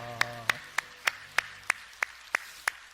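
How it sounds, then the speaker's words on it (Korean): Slow, evenly spaced claps ring out in a church, about nine sharp hits at steady rhythm after a voice trails off, quiet and reverberant. "우리 하나님께 영광의 박수합시다."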